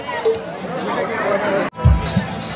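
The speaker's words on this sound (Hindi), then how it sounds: "इफले फांगशन चलि आसे पूरा हुलस्थुल मानसि इफले चलि आसे फांगशन मानुषे मानुष देख तो मानुष भीड़" Crowd at a Karam festival fair in Dhalmara, a dense hubbub of many voices chattering together, close and busy, with one nearer voice rising over the babble near the end.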